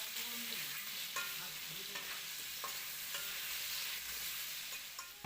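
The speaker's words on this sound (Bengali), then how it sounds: "আলুতে একটু লবণ আর একটু হলুদ গুঁড়ো দিয়ে আমি ভালো করে আলুটাকে ভেজে নিচ্ছি।" Potatoes seasoned with salt and turmeric fry in oil in a kadai, giving a steady close sizzle throughout with repeated scraping and stirring strokes from a utensil.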